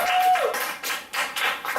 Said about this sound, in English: Alright, that's enough clapping.